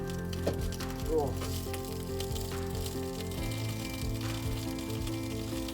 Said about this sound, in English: I'm just chopping up sausages, just chucking them on.